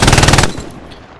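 A rapid burst of automatic gunfire in the World War II shooter Hell Let Loose, set at Stalingrad, is loud and close for about half a second, then cuts off into a short fading echo.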